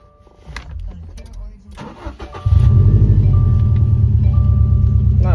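Subaru STI engine cranks and fires up after some interior clatter, then settles into a loud, steady near idle with a rough burble; someone talks before the start.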